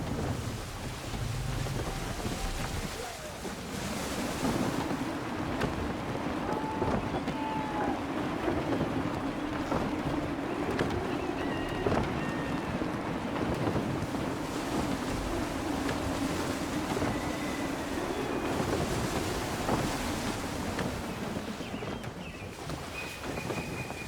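Steady gusting wind rushes over open sea while sailing in Assassin's Creed III, with water and waves washing against the ship's hull throughout and faint ship creaks, no voices.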